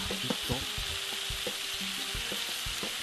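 A frying pan slides and sizzles in the Taskmaster VR video game, giving steady broadband hiss with scraping and clattering movements layered on top.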